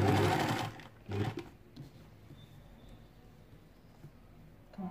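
An electric sewing machine stitching a djellaba runs in two short loud bursts, first and strongest at the start then again briefly, followed by quieter handling and faint clicks with no talking.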